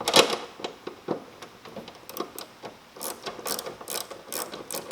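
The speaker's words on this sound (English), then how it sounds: "we're gonna start by removing that 10mm bolt that I was talking about." Ratchet clicking rapidly as it backs out a 10mm bolt holding the tail light on a BMW F30 335i, a close, steady run of dry pawl clicks in uneven bursts with no talking.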